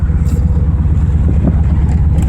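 A cheap V8-swapped Mazda RX-7 accelerating in second gear, its engine a loud, close, throbbing low rumble that holds steady for a couple of seconds.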